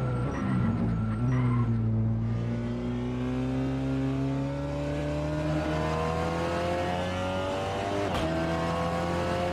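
A race car in the Assetto Corsa sim game, badly damaged near the finish, drones with a steady, loud engine note whose pitch slides gently up and down as it keeps driving, with no talk.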